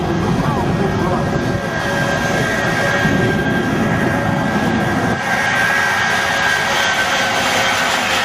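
Jet engines roar at an airshow at Westover AFB in New England, a loud, steady, broad rumble with whine that holds for the whole stretch, with an announcer talking over it.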